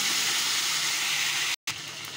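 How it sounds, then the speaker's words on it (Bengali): Sliced chillies and potatoes hit hot oil tempered with radhuni, giving a loud, steady sizzling hiss that briefly cuts out for a moment, then resumes, with no talk. "রাঁধুনিটা লাল হলে, ফোড়নটা লাল হয়ে গেছে, আমি দিয়ে দেব চিড়ে রাখা লঙ্কা আর আলুটা।"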